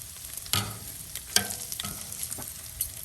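Bacon sizzles on a Blackstone griddle as a steady close crackle. A few sharp scrapes and taps of a spatula on the metal cut through the frying, with no one talking.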